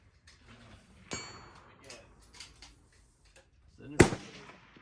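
Long range rifle shots at a team shooting match on zero day, with two sharp cracks about three seconds apart, the second louder. Faint background noise and murmuring lie between them.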